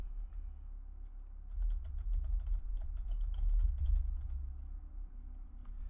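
Typing on a computer keyboard while coding, a rapid run of soft clicky keystrokes in uneven bursts over a low background hum, close and with no talk.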